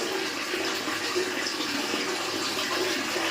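A water tap runs steadily and fairly loud, in an even continuous gush that carries on to the end.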